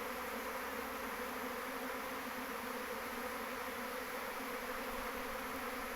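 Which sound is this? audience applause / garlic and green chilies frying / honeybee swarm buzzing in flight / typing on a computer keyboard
honeybee swarm buzzing in flight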